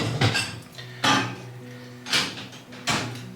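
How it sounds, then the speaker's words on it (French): Dishes and cutlery clatter and clink in distinct bursts as a dishwasher is loaded in a family kitchen, four sharp knocks spaced about a second apart, close and loud. "je suis en train de déjà remplir le lave-vaisselle"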